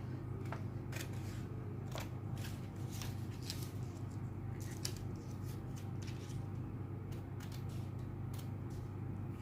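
Scissors snipping through fabric for a belt bag, a steady run of soft crisp cuts close by against a constant low room hum, with no talking.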